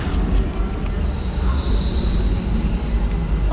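A Bangalore metro train at National College station roars loudly and steadily nearby, wheels rumbling with a thin squeal running above the noise.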